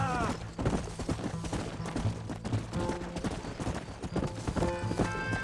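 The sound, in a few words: horse galloping in video game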